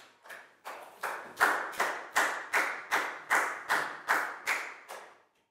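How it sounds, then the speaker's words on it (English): Pupils in a Year 4 maths lesson clap together in a slow, unison rhythm, a dozen or so sharp group claps evenly spaced about every third of a second, ringing slightly in the room before stopping. "Big round of applause for Net, please, guys."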